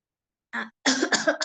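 A man coughs, one short cough and then a rougher burst of several hacking coughs with throat clearing, close and alone.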